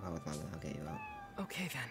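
A cat caught in a spiderweb in the video game Demon Slayer: Kimetsu no Yaiba - The Hinokami Chronicles gives short meows over and between a man's speech, with game music underneath.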